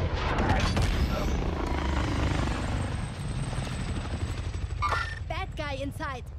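A helicopter in Call of Duty: Modern Warfare thumps loudly and steadily up close, with a distant boom beneath the rotor beat and a voice speaking over the last seconds.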